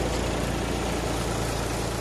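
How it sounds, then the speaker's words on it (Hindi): Mahindra 295 tractor engine running a five-fan paddy thresher at about 1200 rpm, a steady low mechanical drone with even rumble throughout, loud and continuous with no voices. "ट्रैक्टर अभी 1200 से चल रहा है।"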